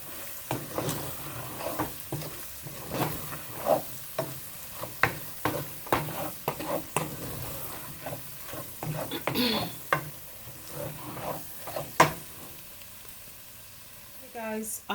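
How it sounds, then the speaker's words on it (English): Chili ingredients with beans are stirred in a hot pot, giving repeated scraping strokes over a low sizzle, with a brief hiss of steam near the end and a voice talking at times. "And we're just gonna mix this together."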